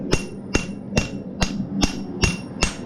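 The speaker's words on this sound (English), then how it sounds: "So hammer it and then flip it over" A hammer strikes hot metal while forging, seven sharp, ringing blows in a steady, even rhythm, loud and close with no talking.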